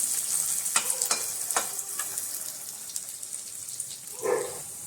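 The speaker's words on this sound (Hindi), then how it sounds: "जब तक प्याज इधर भुन रहा है उधर मैंने मटर उबलने रखी है" Steady hissing sizzle of onions frying in a pan, with scattered crackles and a brief duller clatter near the end.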